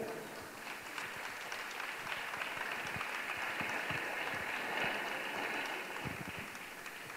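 Audience at the Miss Jaén 2010 pageant gala applauds as the candidates return to the stage, a dense ongoing clapping with some louder individual claps and a low murmur of crowd beneath.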